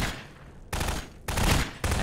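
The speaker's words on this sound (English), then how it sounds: "I'm just hearing shooting happening all over me" Bursts of video game gunfire surround the listener, three loud dense volleys of rapid shots separated by brief quieter gaps, with no talking.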